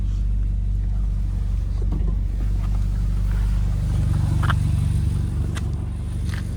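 A 2010 Ferrari California's naturally aspirated front-mounted V8 idles with a deep, steady rumble, a smooth continuous drone with no revving.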